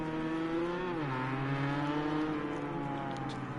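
A race car engine in Project Cars 2 at a speedway, a steady, loud whine drifting down in pitch as the car heads into pit row, heard alone.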